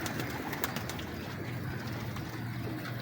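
Pigeons kept by a breeder coo softly in a loft, repeated low rolling calls at a moderate distance over faint background noise.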